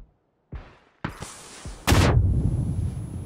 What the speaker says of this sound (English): The grenades come in.